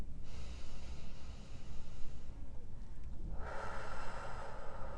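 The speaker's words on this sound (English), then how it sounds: "let's start with just taking 3 calm, long breaths, ideally in through the nose and out through the nose, or out through the mouth" Slow, deep breaths drawn in through the nose and let out through the mouth, close and quiet, with a long airy exhale swelling near the end.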